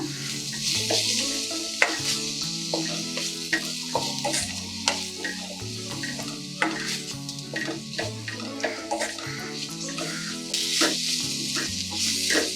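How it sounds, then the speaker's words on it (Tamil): Tomatoes sizzle steadily as they sauté over a low flame in a pan while a utensil stirs and scrapes, with soft clinks; music plays throughout the background. "தக்காளி எல்லாம் நல்லா வதங்கட்டும்."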